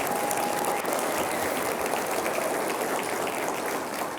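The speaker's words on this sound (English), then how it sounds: "Let's give her an incredible round of applause." Steady, full applause from a large audience at a university address, a dense wash of clapping that holds at an even level throughout without pause.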